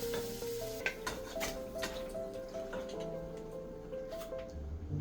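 Tomatoes and spice powders sizzle steadily in a pan over medium heat for a chicken curry, a continuous close frying hiss with occasional small pops and stirring clicks, no talking.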